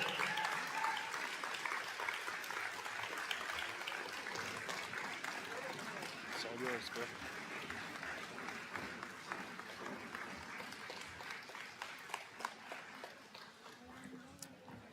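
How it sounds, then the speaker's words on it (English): A large audience gives a standing ovation, applauding loudly and steadily at a survivors' gathering, the clapping holding strong and then easing off slightly toward the end. "I'm going to start a standing ovation for our Pulitzer Prize winner, Connie Mike,"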